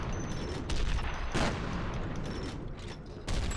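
Weapon fire in the shooter game F.E.A.R. comes as a sustained, loud clatter of shots with mechanical clanks, a brief sharper burst in the middle and a fresh volley near the end.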